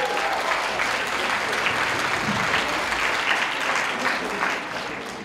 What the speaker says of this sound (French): On applaudit bien fort Usagi de Sailor Moon.